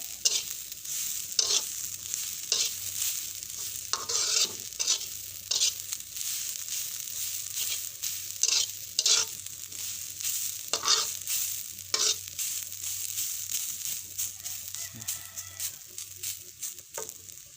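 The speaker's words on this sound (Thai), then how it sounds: "มะพร้าวคั่วของเราก็เริ่มจะเหลือง" Coconut being dry-roasted in a pan over low heat, a spatula scraping and stirring in repeated strokes over a faint steady sizzle, close by, with no voices.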